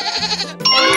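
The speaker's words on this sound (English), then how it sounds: "Goat." A goat gives a single short, loud, wavering bleat close up, breaking briefly before a second sharper burst.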